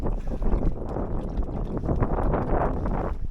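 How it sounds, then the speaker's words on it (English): Wind rushes across the microphone aboard a Drascombe Lugger sailboat at sea as the swell builds, a steady loud buffeting with water washing close by and no talking. "A little bit of wind here. There's actually a little bit of swell as well, just building."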